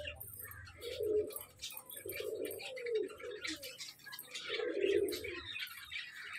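Pigeons coo in a series of soft, low phrases, about four of them, at a moderate distance. Brighter bird chirps and tweets go on steadily behind them.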